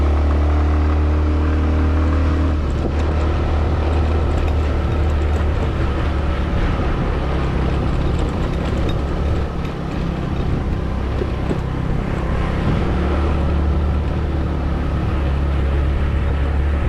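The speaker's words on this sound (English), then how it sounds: "It's a carbureted bike, so it has to warm up completely before." A carbureted scooter engine idles as it warms up, a loud continuous low rumble that holds steady throughout with a slight shift partway through.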